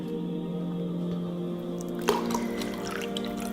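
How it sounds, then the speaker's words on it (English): A cup of milk tipped into a bowl of koeksister dough ingredients, a short splashy pour with a few drips over a constant background hum. "And a cup of milk."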